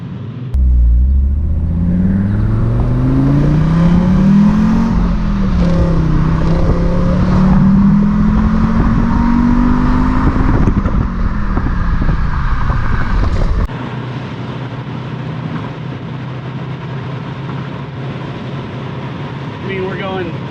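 Audi 90 quattro 20v sport with third gear missing, accelerating hard on the road; a loud engine note rises and falls through the gears for about thirteen seconds, then settles into a steady cruising drone with wind noise while people talk.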